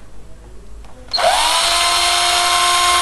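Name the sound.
cordless drill running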